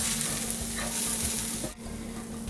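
Beef enchilada filling cooks in a pan with a continuous close sizzle and occasional scraping stirs, steady and fairly loud, dipping briefly near the end, with no voices.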